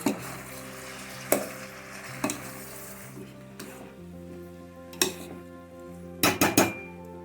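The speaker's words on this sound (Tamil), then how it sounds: "இப்போ நல்லா கலரிக்கணும்" A spoon stirs mixed vegetable sambar in a pot, clinking and scraping against the metal at irregular intervals over a soft steady sizzle.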